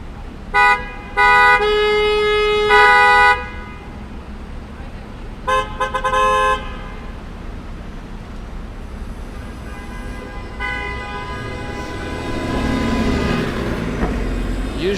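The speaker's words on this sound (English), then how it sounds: "Usually honking helps more than anything else." Car horns honking in New York City traffic on a winter morning, several sharp toots and longer blasts in bursts over a steady street rumble, followed by traffic noise swelling toward the end.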